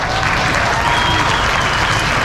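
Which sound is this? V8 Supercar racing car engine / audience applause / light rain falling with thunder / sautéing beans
audience applause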